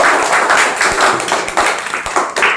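Hand claps from people at an informal village gathering, a run of sharp, uneven slaps in quick succession that carries on for a couple of seconds, fairly loud and close with a busy, noisy background.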